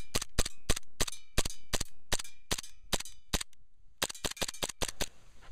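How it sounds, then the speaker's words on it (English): A KWA M226 gas airsoft pistol fires about a dozen rapid, sharp, snappy shots in quick succession outdoors in freezing cold, with a brief pause before a final fast string of shots. "Gonna do some rapid firing."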